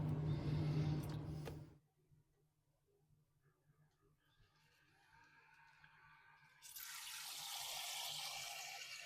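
A Spopal 8000mAh rechargeable portable camping shower pumps water through a long hose: a hissing spray for under two seconds, a quiet gap with faint ticking, then the spray returns steady and louder toward the end.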